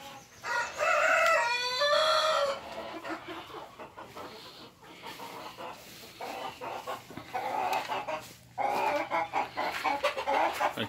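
A rooster crows twice at the start, and chickens, including Jersey Giant birds, cluck and squawk at close range in a farm breeding yard, with another crow near the end.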